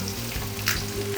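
Garlic, ginger and curry leaves sautéing in a pan with coconut pieces, a steady close sizzle with soft stirring scrapes, ending in a brief louder clatter.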